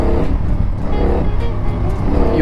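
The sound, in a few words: CFmoto 450NK motorcycle accelerating on throttle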